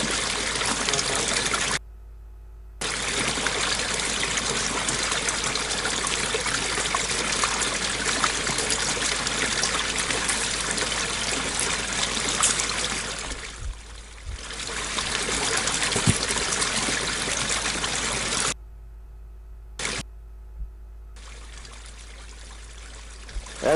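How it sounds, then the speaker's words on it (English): A foamy stream running through a culvert, a steady rushing trickle close to the microphone that holds throughout with brief cutouts. "this is where the culvert is and the stream runs through"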